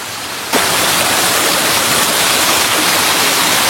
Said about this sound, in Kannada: water stream number 7.